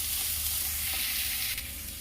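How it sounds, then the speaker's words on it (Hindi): Steady close sizzling and frying hiss from coconut roasting in a hot pan, with a brief stirring scrape near the end. "और ये नारियल। इसे थोड़ा रंग बदलने तक मैं इसे भूनूंगी"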